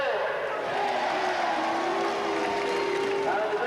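A Sheffield rugby league crowd at a 1990 Sheffield Eagles v Leeds match reacts with a steady, dense roar of voices and jeering, a continuous wash of noise under commentary.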